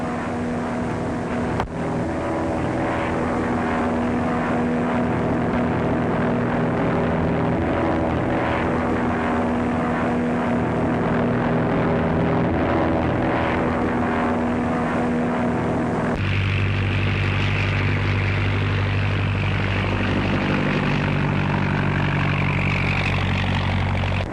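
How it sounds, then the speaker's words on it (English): A propeller airplane drones loudly and steadily overhead, its engine tone shifting lower partway through as it passes, in a 1937 crime drama film. "I know the plane."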